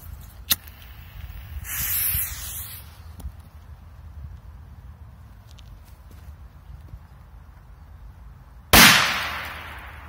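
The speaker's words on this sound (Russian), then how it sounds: "Так, Корсар 3 на 2 взрыва." A faint pop early on, then a hissing burst, and later a sharp, loud bang from a Korsar 3 firecracker with a lingering crackling decay outdoors.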